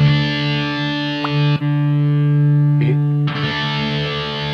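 An electric guitar is played through a Yamaha THR30II Wireless amp on a distorted preset, ringing out long sustained, heavily overdriven chords, with sharp re-picked attacks between them and no talking.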